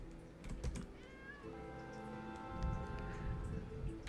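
A cat meows when petted in the video game Travellers Rest, short soft mews near the start over quiet keyboard typing and background game music.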